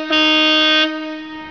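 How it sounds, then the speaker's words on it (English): A Harley-Davidson Street Glide trike with a 103-inch engine sounds its air horn in one loud, sustained chord-like blast lasting under a second, then a fading ring. "this horn, I'm going to hit it, it sounds like a freight train because it's an air horn"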